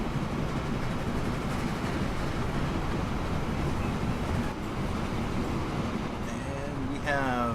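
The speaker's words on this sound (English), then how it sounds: "And this train is coming into the station." A train pulls into a station in the Transport Fever railway game, a steady, loud rolling rumble that holds evenly throughout before easing slightly near the end.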